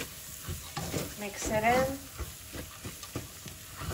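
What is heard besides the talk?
stirring and frying ingredients in a pot for lentil stew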